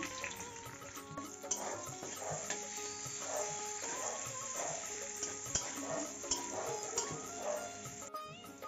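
Capsicum frying lightly in oil for fried rice, a soft continuous sizzle crackling under steady background music.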